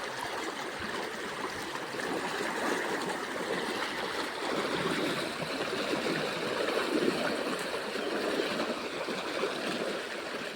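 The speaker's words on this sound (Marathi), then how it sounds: "नदीचा प्रभाव खूप जास्त आहे" A strong river current rushes steadily during a river crossing, a broad and continuous watery roar with no pauses and no voices.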